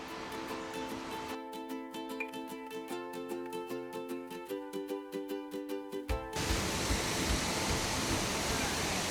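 After a stretch of rhythmic music, the steady, full roar of a waterfall cuts in and fills the last few seconds.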